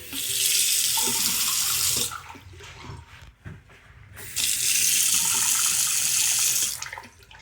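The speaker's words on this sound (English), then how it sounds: "Good stream of water." Water runs from a TrustMi bathroom sink faucet in a strong stream, gushing loudly for about two seconds, shutting off briefly with a few small clicks, then flowing again before stopping.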